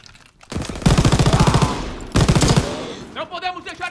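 Bursts of rapid machine gun fire from the Call of Duty: World at War video game rattle loudly in two long strings, with voices shouting in the game's battle.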